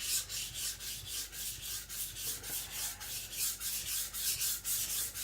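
An IKEA Chinese cleaver is being sharpened with steady, rhythmic strokes, close and unhurried, each scraping pass repeating about twice a second with no voices.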